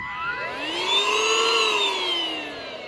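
A small handheld vacuum whirs close by, its motor pitch rising slightly then easing back down over a few seconds.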